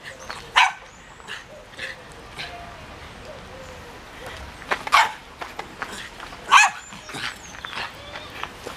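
A dog gives a few short, sharp barks spaced through the scene, alongside faint whimpers and yips, at moderate distance in an outdoor setting in Spain, with a person speaking softly in between.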